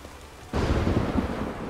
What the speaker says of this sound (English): That was a good thunderclap right there.